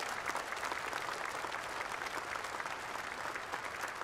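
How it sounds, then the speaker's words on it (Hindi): Steady, dense applause from a large audience at a national cooperative conference in India, continuous and even across the whole stretch with no voices rising above it. "हम सब इसकी ताली बजाकर स्वागत करें और उनके प्रति धन्यवाद"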